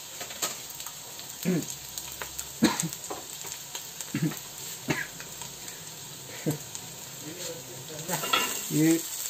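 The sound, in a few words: onion frying in a pan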